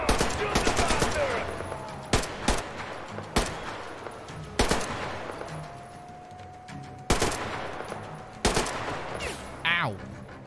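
Sustained gunfire in Metro Exodus, Sam's Story DLC: rapid automatic bursts mixed with heavy single shots, loud and close, repeating throughout with brief gaps between volleys.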